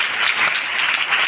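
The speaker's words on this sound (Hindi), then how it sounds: "मैं उसके लिए चाहूँगा एक बार जोरदार तालियां हम बजाएंगे" Loud, dense applause from a church audience for singers at a prayer and healing meeting, a brief continuous burst of many hands clapping close by.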